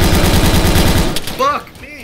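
Rapid automatic gunfire from an ARMA 3 military firefight fills the first second, loud and close, then breaks off into scattered shots with voices over the radio.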